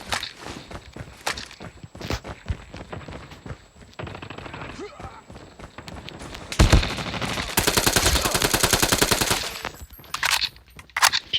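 Call of Duty gunfire cracks in sharp single shots and rapid automatic bursts, mixed with in-game footsteps, while a player talks over the action.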